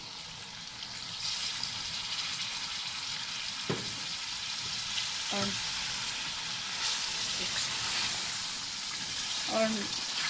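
Chicken karahi in a wok, sizzling and hissing after a cup of water is poured in, a steady bright crackle with a few brief knocks and a short spoken word.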